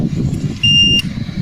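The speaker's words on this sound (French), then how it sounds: "Donc si je teste au-dessus, il va biper." A voltage tester touched to a live electrical wire during live-line safety work gives one short, high, steady beep of about half a second over low background rumble.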